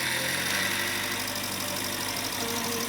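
A newly gifted motorcycle idles close by, a steady mid-pitched engine drone with faint mechanical vibration running evenly throughout.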